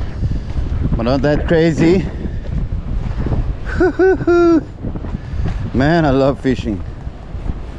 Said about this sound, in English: Wind is bumping a bit